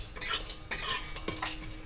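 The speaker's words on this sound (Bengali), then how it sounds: "কড়াইতে ভেজে নেব।" Biryani spice mix of cardamom, nutmeg, rose petals, pepper, cinnamon, cloves and cumin dry-roasts in a kadai, with several close metallic scrapes and clinks of a spoon against the pan and a faint crackle.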